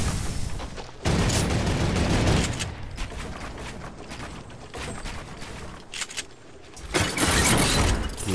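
A mounted turret in a shooter game fires loud repeated bursts, sharp cracks and booming impacts arriving in clusters with brief gaps, close and dominant throughout.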